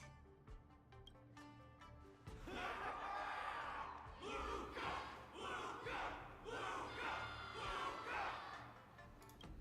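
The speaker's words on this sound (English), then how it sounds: "Can't you hear? Everyone's cheering for you, Luca." A roaring crowd of many voices cheers rhythmically in swelling chants for Luca in the Honkai Star Rail game, loud and layered over music, following a quieter stretch of speech at the start.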